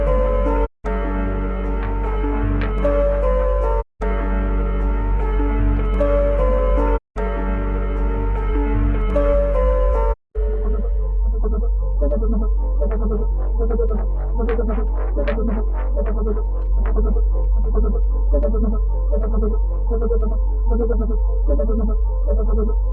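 A dark vintage-style music sample, EQ'd and soft clipped, plays alone: dense sustained harmonic tones broken by four short dropouts, then shifting into a busier, rhythmic passage with plucked-sounding accents.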